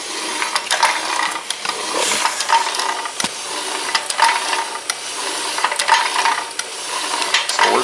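Homemade can crushing machine running idle, its motor driving connecting rods and a piston in a steady rhythmic mechanical clatter with repeated clicks, fairly quiet and continuous with no talk.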